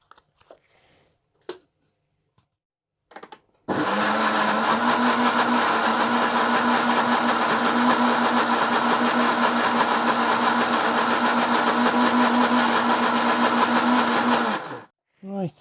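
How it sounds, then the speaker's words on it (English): A kitchen blender runs loud and steady for about eleven seconds, whirring through a chilli and mint sauce before cutting off abruptly, with faint clatter before it starts and after it stops. "and let's blend."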